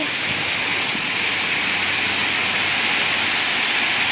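Steady, loud rushing and splashing water fills the clip without pause from a water wheel fountain at Nan Lian Garden, Diamond Hill, Hong Kong.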